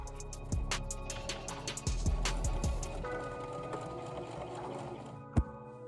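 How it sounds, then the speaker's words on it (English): A sewing machine runs a straight stitch around a fabric design, giving a steady, close mechanical whir with rhythmic ticking needle strokes and a few sharper clicks, with no talking over it. "I'm going to start with a straight stitching around the design."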